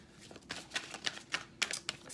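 Tarot cards are shuffled by hand in a quiet room, giving a series of crisp riffling bursts and soft slaps spaced irregularly, close to the listener with no voice.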